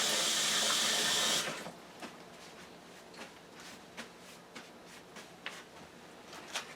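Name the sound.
tap water running while washing hands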